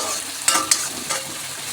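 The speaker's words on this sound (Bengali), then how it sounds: "পেঁয়াজগুলোকে আমি লাল লাল করে ভেজে নেব।" Onions fry in a wok with a close, steady sizzle, broken by two or three quick sharp stirring scrapes in under two seconds.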